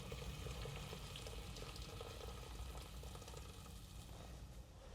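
Hot water poured steadily into a pot holding a whole chicken for soy sauce chicken, a continuous splashing rush of liquid, close and even, with no talking.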